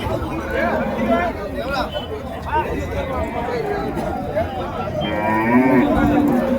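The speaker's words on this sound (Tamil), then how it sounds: "நாட்டு காளைங்க இதுங்கெல்லாம் ஜோடி சரியான ஜோடி பாருங்க" Pair of native plough bulls at the Vaniyambadi cattle market, lowing close by among crowd chatter and voices. A louder drawn-out moo rises near the end.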